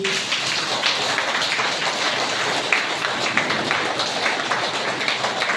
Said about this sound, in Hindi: खूब ताली बजाएंगे।